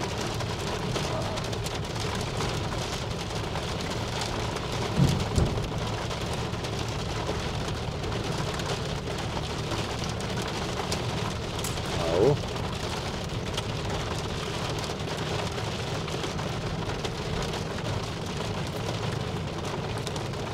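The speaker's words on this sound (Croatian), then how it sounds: "Baš nam je krenula kiša," Steady rain falls at a campsite on Zlatibor mountain, a soft, even hiss that lasts the whole time, with a couple of brief louder bumps.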